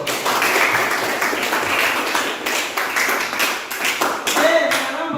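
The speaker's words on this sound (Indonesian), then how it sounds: "Tepuk tangan untuk kelompok 1." Classmates in a school classroom clap for a student group after its presentation on electric current, a dense, steady patter of hands lasting several seconds with some crowd noise mixed in.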